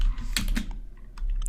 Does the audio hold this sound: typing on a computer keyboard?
yes